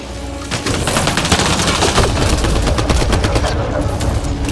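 Sustained rapid gunfire in a sci-fi shooter battle, loud and continuous volleys of automatic fire from just after the start, with a faint voice underneath.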